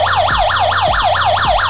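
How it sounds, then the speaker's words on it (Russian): A Xiaomi NexTool NE20236 multitool's built-in 90 dB noise alarm sounds loud and close, a rapidly rising and falling electronic wail repeating about every half second, with no voices. "А следующая функция данного устройства – это шумовая сигнализация громкостью 90 дБ."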